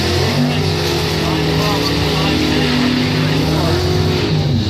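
A dragster races to the finish line at a drag racing event, its loud, sustained engine roar holding steady throughout under the talk of a commentator.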